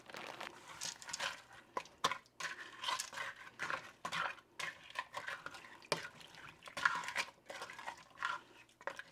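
Whole kernel corn tumbles into a pot of homemade vegetable beef soup, a run of close, irregular scrapes, clinks and soft crunchy shuffles of a spoon against the metal container.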